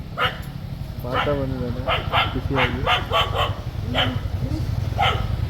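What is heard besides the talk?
dog barking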